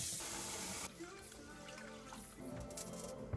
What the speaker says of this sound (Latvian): Jāskalā ar augstu ūdeni.